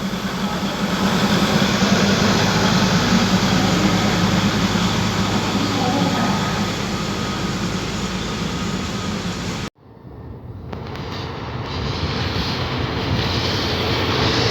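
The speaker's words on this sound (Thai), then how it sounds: "ขณะนี้ออกจากสถานีรถไฟชุมทางตลิ่งชันแล้วนะครับผม" A passenger train rumbles away from Taling Chan Junction station in Thailand with a steady, loud roar that dips sharply for a moment and then resumes.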